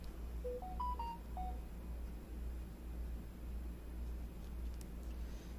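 A mobile phone gives a short run of rising electronic beep tones near the start, quiet and thin over a low steady hum, then only background noise remains.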